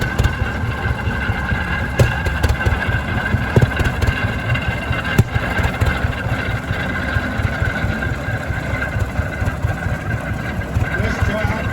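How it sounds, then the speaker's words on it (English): A Rumley OilPull 15-20 tractor engine runs steadily at an outdoor vintage tractor show, a continuous mid-pitched chugging with sharp knocks, while people talk nearby. "this tractor is another Rumley oil pull, and it's about a 1520."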